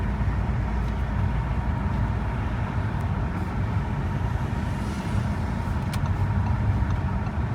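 Steady, loud interior road noise and engine drone from an Audi S5 cruising on back roads toward the highway, a continuous rumble with no one talking.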